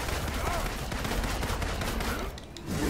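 Gunfire in the Marvel's Avengers video game, a dense continuous barrage of loud shots filling the whole stretch, with a brief dip near the end before the firing resumes.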